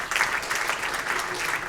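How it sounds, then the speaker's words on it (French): A crowd at the Pool Malebo Music Awards ceremony claps loudly, steady applause with slight surges, close and full. "Applaudissez pour vous-même"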